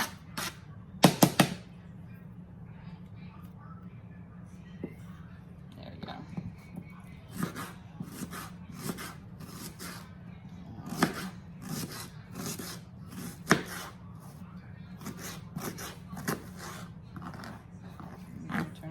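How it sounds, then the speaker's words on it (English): A kitchen knife roughly chopping an onion on a cutting board, heard as a run of sharp, close taps at an irregular rhythm over a low hum, with a person talking at times. "go ahead and get this onion cut up now"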